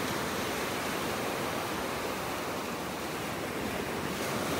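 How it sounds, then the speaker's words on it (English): Ocean surf breaks and washes along a beach in North Naples, Florida, a steady, broad hiss of waves with a breezy roar, constant and unbroken with no voices. "Really love listening to the waves."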